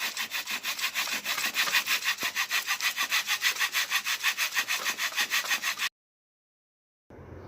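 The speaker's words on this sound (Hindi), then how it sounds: "अगर हम आरी से इसे काटेंगे तो इसमें फिनिशिंग बहुत ज़्यादा अच्छी आती है" Steady back-and-forth strokes of a hand saw cutting metal, quick, even and close, running for several seconds before stopping, then a short burst of sawing resumes.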